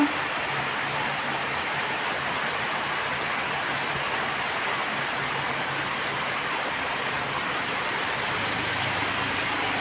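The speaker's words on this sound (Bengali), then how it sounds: "আজকে কয়েকটা দিন ধরে লাগাতার বৃষ্টি চলছে" Continuous rain falling during days of steady downpour over a flooded vegetable garden, a dense even hiss that holds at constant loudness throughout with no voices.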